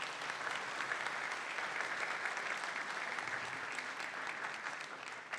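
Sustained audience applause at a public forum on social security and health, an even wash of many hands clapping, moderately distant and steady throughout with no voices.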